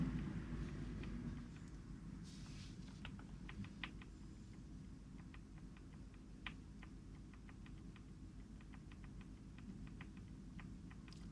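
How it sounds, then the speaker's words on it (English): Steady stream of keyboard typing, crisp individual key taps scattered at an irregular pace over a low, constant background hum. "how loud the clangs are on this microphone, considering that my keyboard is not really that loud"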